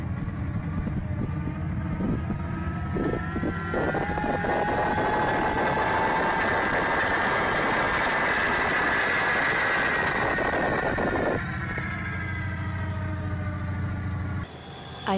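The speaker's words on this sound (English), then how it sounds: "It looks like a train with a jet engine." Loud, steady engine roar from a smoky train said to run with a jet engine, rising in pitch with a whine through the middle and then dropping off near the end, with no talk.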